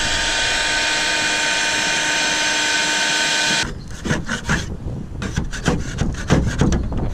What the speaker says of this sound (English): We'll try a little bit more heat gun on the corners